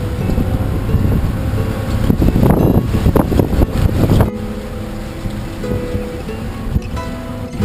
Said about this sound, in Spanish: Estamos en medio de la tormenta, esperando a que baje, que pare el viento